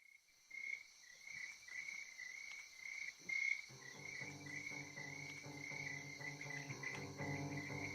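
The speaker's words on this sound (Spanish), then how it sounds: "esta canción parte rodeando al oyente con el canto de los grillos" Crickets chirp steadily in a high, continuous trill that opens a song, with musical instruments entering partway through and building underneath the insect chorus.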